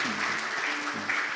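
A Korean church congregation in Orange County claps together in a short, close burst of applause while a voice talks over it.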